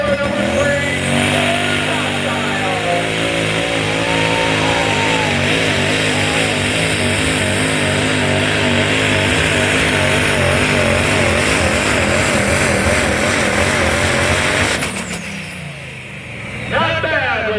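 A 1950 GMC 8000 open diesel super stock front-wheel-drive truck roars down a racing pull track, its loud diesel engine droning and rising in pitch at full power for about fifteen seconds before cutting off abruptly, with a brief rev after.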